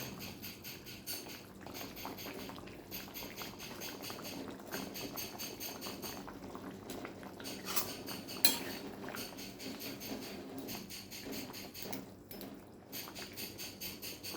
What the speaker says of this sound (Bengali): এবার দিয়ে দেবো মাছগুলো।